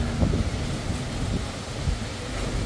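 Gusty wind during Super Typhoon Uwan roars as a steady, loud broadband rush that buffets the microphone, with no voices.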